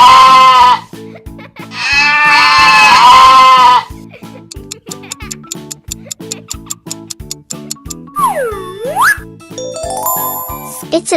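A goat lets out two loud, wavering bleats close by at the start, followed by tinkling, chiming music.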